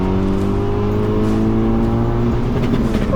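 A 2005 hot hatch wagon's 4.1 litre straight-six with a six-speed manual revs hard toward its 7,200 rpm redline, a loud, steady, close engine tone holding high then wavering as revs shift, with no talking.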